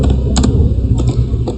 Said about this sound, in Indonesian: lalu kita ketik perintah nano